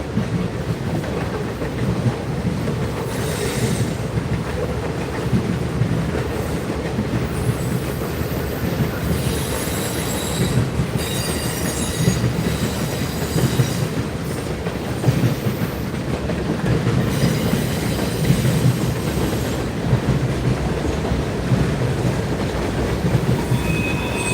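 A Norfolk Southern freight train rolls past at night in Dalton, Georgia, a steady loud rumble of wagons with wheels squealing and rhythmic clacking throughout, no voices.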